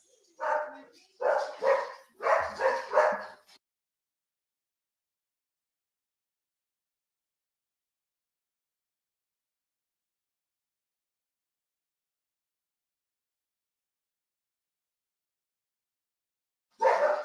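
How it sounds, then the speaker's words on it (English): Several household dogs bark in a quick burst of four close barks, followed by a long silence and then one more bark at the very end. "Oh, the dogs are fired up."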